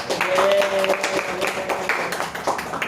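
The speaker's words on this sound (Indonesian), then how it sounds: "Boleh tepuk tangannya untuk Nomi." A short burst of clapping from a small group in a classroom microteaching session, scattered and fairly close, fading within a few seconds, with a voice briefly heard over it.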